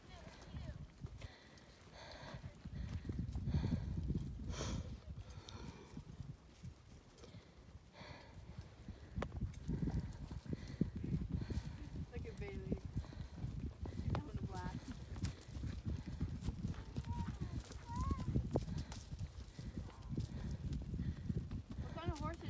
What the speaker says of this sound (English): he's gonna go catch up with those horses